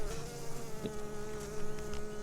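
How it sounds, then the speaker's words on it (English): Honeybees buzz steadily around an open hive, a close, dense droning hum that stays level with small swells and one brief sharper buzz near the middle, without speech. "see how black that bee right there is? That one right there in front of my finger?"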